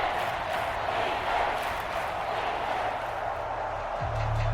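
Stadium crowd in the Madden NFL 25 video game, a steady loud roar of a packed football crowd that holds through the whole stretch, with a low rumble rising near the end.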